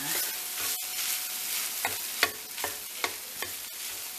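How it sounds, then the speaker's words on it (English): Rice stirred into sizzling stuffed bell pepper filling in a pan, a steady bright frying hiss with several spoon scrapes and knocks at an uneven pace, close and moderately loud. "to mix your rice in nice"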